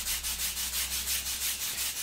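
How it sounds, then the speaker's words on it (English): A stick of very soft charcoal is rubbed back and forth on a sanding block to sharpen its point, giving a steady, close, rhythmic scratchy rasp in repeated short strokes with no talking. "I want this sanding block just because I want a slightly kind of finer point on my charcoal this week."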